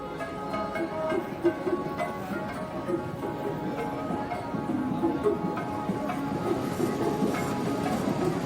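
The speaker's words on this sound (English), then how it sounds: "Kalka to Shimla takes us 6 hours aboard the historic Shimla toy train" Historic Shimla toy train on the Kalka to Shimla line rolling slowly along its rails, a steady rumbling clatter with faint rhythmic clicks, continuous and moderately distant throughout.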